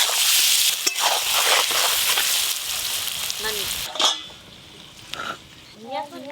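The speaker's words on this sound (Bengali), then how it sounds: "আমি তেলের মধ্যেই লবণ হলুদ দিয়ে আলুটা ভেজে নেব।" Half-boiled potatoes frying in mustard oil with salt and turmeric sizzle loudly at first, then fade as a spatula clatters against the pan. A voice speaks faintly near the end.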